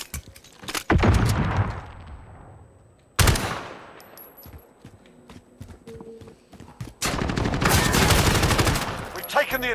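Submachine gun bursts in a Call of Duty Modern Warfare multiplayer match, rapid clattering volleys that start, fade, then return loud and sustained near the end, with sharp individual cracks between.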